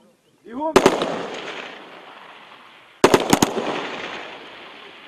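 Two quick bursts of close, loud gunshots, a few rounds each, ringing out with echo after a short voice.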